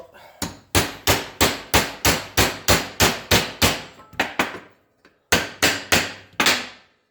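A hammer beats on a metal seat mount to straighten it, with about fifteen loud, close, ringing blows in a steady rhythm, broken by one short pause and then a final burst of strikes.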